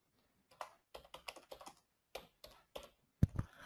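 Computer keyboard typing a for loop in code, crisp close keystrokes in short bursts separated by brief pauses, ending with a heavier clatter of keys, in an otherwise quiet room.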